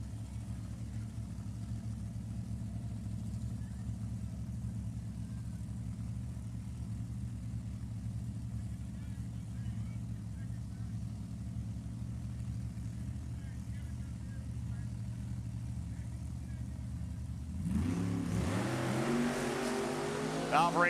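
Funny car drag racing at Sacramento Raceway: a steady, loud engine drone holds for most of the run, then a sharp roaring surge of acceleration near the end, with a commentator talking over it.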